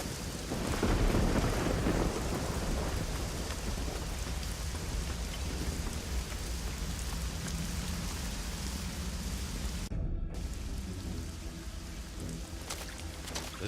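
Storm in Risen 2: Dark Waters, steady heavy rain hissing with low rolling thunder rumbling underneath, loudest early on, with a brief dropout near the end before the downpour resumes.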